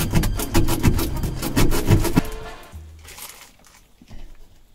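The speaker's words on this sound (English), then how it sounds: "So we have to sand it right there, baby." Metal being sanded by hand in a van to bare a spot for a negative ground connection, with rapid, loud rasping strokes for about two seconds that then stop, leaving quieter faint scraping and handling.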